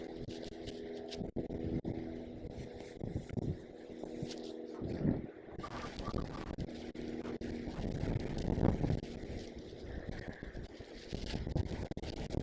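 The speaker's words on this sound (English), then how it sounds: "It is quite a windy day today." Gusty wind buffets the microphone in rough, uneven bursts, blowing sand about, with rumbling low noise rising and falling throughout.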